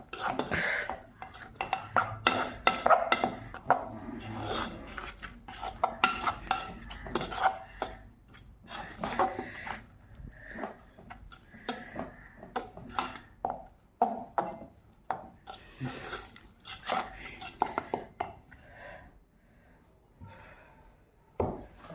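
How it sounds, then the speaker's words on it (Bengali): Flour is beaten into sponge cake batter in a bowl, making busy clattering and scraping as a utensil knocks against the bowl in quick irregular strokes. The mixing eases off toward the end and no one speaks. "এবার ময়দাটাকে ভালো করে মিশিয়ে নিতে হবে।"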